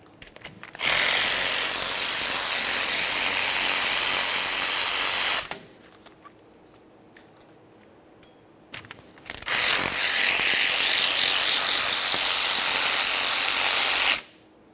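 Power tool, likely an impact wrench or ratchet, taking out the two 10mm caliper slider bolts on a 2004-2008 Ford F-150's rear brakes, running loud in two long bursts with a quiet gap between them.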